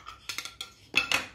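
A metal spoon clinks and scrapes against a small saucepan several times in quick, uneven taps while honey is added, close and fairly quiet.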